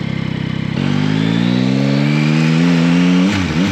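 A Yamaha Tracer 9 GT motorcycle engine hums at low speed, its pitch rising gently and steadily as it pulls along, close and continuous with no voices.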